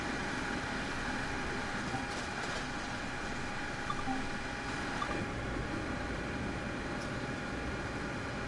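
A high-speed train in Train Sim World runs at about 142 mph, a steady, quiet rolling roar with faint clicks and no talk.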